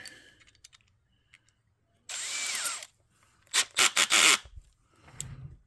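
A power drill fitted with a small bit runs in two bursts: one steady whir of under a second, then a choppy series of short trigger pulses, near and loud, with quiet handling noises between them.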